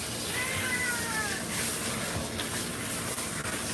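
Maine Coon cat meowing during a bath, a drawn-out wavering meow near the start followed by fainter cries over running water and bathroom noise.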